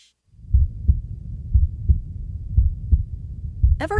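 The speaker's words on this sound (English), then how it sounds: "You're at the checkout, heart pounding, wondering if your card's about to get declined." A deep, thumping heartbeat sound effect from an advertisement pulses in steady doubled beats, loud and close, ending with a brief rising tonal swell.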